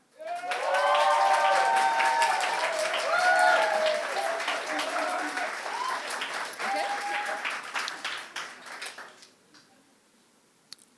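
An audience at a green transition debate claps to vote for a side, a loud sustained burst of applause with voices and cheers mixed in, tapering off to quiet near the end.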